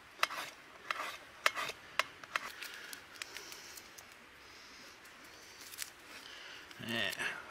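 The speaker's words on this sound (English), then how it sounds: "Same with my garlic. Just a quick slice today." A knife slices garlic at a camp cooking setup, with several sharp, separate taps on a board close by, under quiet background hiss and a person talking.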